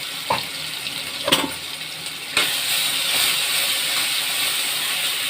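Onion, ginger, garlic and green chilli paste dropped into hot oil in a kadai with black cumin and chillies: a couple of sharp clanks, then a sudden loud, steady hissing sizzle that carries on to the end.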